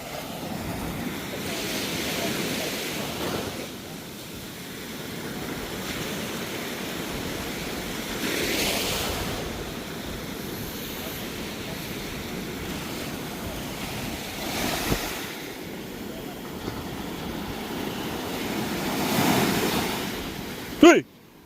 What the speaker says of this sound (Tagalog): Yung mga alon, palakas ng palakas, oh.